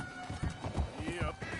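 Horse hooves in Red Dead Redemption, a quick rhythmic clip-clop of trotting steps, fairly close and faint, with a short whinny and talk faintly underneath.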